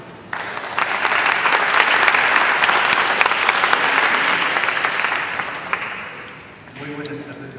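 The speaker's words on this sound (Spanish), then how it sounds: "Lo recibimos con un fuerte aplauso." Loud, sustained applause from a large audience at an international symposium on language policy in Mexico fills the room, swelling quickly and holding steady before tapering off as a voice begins speaking near the end.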